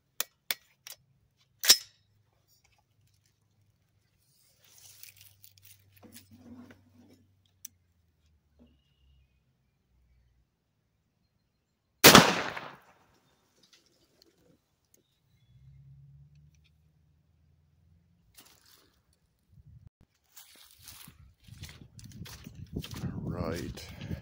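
Subsonic 8.6 Blackout rifle shots ring out at a 25-yard range: two sharp isolated cracks well apart amid long quiet stretches, with faint shuffling and brief voices in between.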